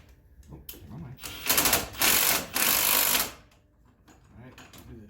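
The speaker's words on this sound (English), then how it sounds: "let's get this first with the impact wrench" An impact wrench fires several short bursts while tightening upper control arm bolts on a Nissan Sentra during a shock and strut job, loud rattling hammering close by, with quiet talk around it.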